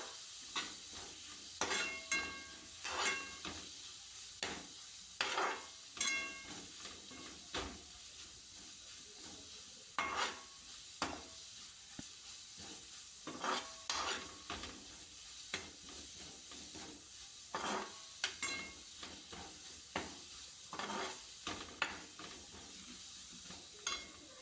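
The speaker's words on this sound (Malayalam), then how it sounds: "ഇഞ്ചിയുടെയും വെളുത്തുള്ളിയുടെയും ആ ഒരു പച്ച മണം ഒന്ന് മാറുന്നത് വരെ അതൊന്ന് വഴറ്റണം." Ginger and garlic sautéing in a pan for a prawn roast, a steady quiet sizzle with repeated stirring scrapes and taps of the spoon throughout, no voices.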